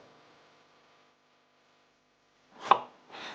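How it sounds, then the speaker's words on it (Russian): A knife cuts onion on a board in a home kitchen while a pan of oil heats, with two short crisp chops near the end after a long quiet stretch with faint hum. "И сейчас мы туда порежем немножко лука."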